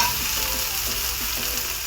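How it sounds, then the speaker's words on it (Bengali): Ginger paste and onions fry in a pan for a Bengali fish-head muri ghonto, a steady broadband sizzle with soft scraping stir strokes repeating under it, close and even, with no voices. "আদা পেস্ট দিয়ে দিব। আবার একটু নেড়ে চেড়ে নেব।"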